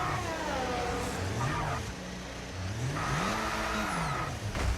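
An F1 race car engine in the F1 25 racing game at a Canadian round roars steadily, its pitch sweeping up and down as it revs, with a continuous whirring drone throughout.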